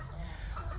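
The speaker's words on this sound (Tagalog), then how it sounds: "ang ingay ng aking mga manok" Chickens clucking close by in a short, busy burst, several birds overlapping.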